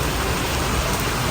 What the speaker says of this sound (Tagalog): Tingnan nyo ang laki ng butil ng ulan